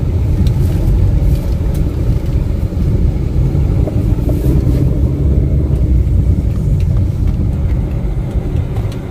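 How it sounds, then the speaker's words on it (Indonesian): A Toyota Corolla Altis G 1.8 automatic engine runs steadily at idle, a smooth, constant low rumble held close and unbroken throughout with no talking. "Dan suaranya ini mesinnya mulus banget ini."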